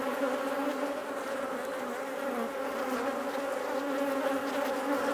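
Honey bees buzzing steadily in a dense, droning swarm around an open hive being inspected by a beekeeper, loud and close, with no pauses or voices.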